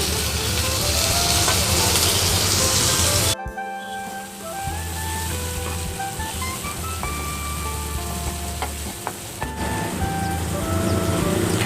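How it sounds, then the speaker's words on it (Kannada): Chopped tomato dropped into fried onions in a pan, a bright steady sizzle that jumps sharply as it hits, then settles into a dense hiss with faint stirring clicks. "ಈಗ ಈರುಳ್ಳಿ ಫ್ರೈ ಆಗಿದೆ ಈಗ ನಾನು ಇದಕ್ಕೆ ಟೊಮೆಟೊ ಸಣ್ಣಕ್ಕೆ ಹೆಚ್ಕೊಂಡಿರುವಂಥ ಒಂದು ಟೊಮೆಟೊವನ್ನು ಹಾಕ್ಕೊಳ್ತೇನೆ"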